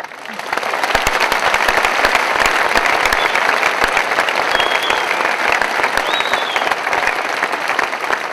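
Audience applause at a film screening: dense, loud clapping from a crowd fills the room and holds steady for the whole stretch, with a couple of faint whistles rising over it.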